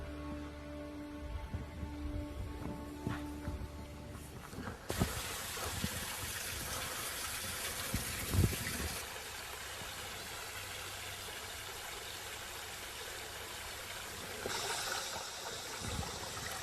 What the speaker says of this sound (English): The energy of flow patterns in water,